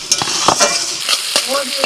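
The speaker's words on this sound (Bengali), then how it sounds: "পেঁয়াজটা ভাজা হয়ে গেছে" Onions fry in a pan while duck meat cooks Adivasi style, a close, crackling sizzle broken by repeated scraping stirs.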